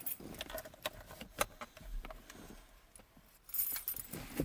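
Keys jangle faintly in a car ignition as it is turned to the on position, producing scattered small metallic clinks and rattles, close and quiet.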